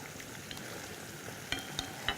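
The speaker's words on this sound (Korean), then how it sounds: "올리브유를 넣어주세요" Olive oil sizzles faintly in a pan heated for stir-frying greens, a quiet steady crackle punctuated by a few short metallic clicks and taps near the end.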